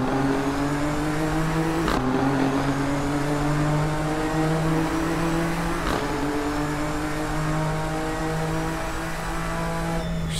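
A Nissan GT-R GT3 race car with a modded engine sound downshifts in an Assetto Corsa winter race at Spa. The engine note drops sharply at each shift, roughly every four seconds, under a constant loud drone with no talk.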